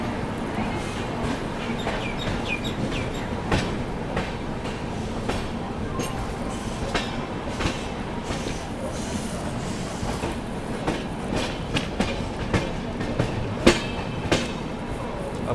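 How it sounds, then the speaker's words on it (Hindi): Lucknow Mail pulls into Lucknow Charbagh station, its carriages passing close with continuous rolling rumble and regular clickety-clack of wheels over rail joints, sharp clanks punctuating the steady noise. "ये है आप लोगों की लखनऊ मेल।"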